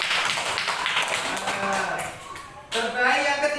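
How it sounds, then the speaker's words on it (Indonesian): A classroom of pupils claps and cheers for a winning group, a dense burst of applause that dips briefly, then returns loudly near the end. "Tepuk tangan."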